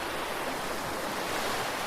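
Ocean waves break on a shore in a steady, soft broadband wash with no distinct crashes, moderately quiet and continuous with no voices.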